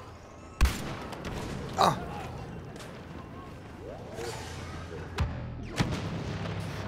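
A grenade going off in Star Wars Battlefront on the Outer Rim cargo transport map, a sharp loud blast among several booming impacts and gunfire, with a player briefly vocalizing.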